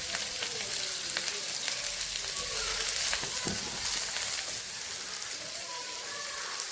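Sliced onions and green chili fry in hot oil, giving a steady, close hiss and crackle that runs throughout, with a person talking over it.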